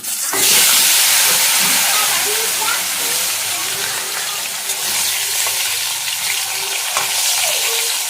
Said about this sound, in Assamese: আলুখনো ভাজি লম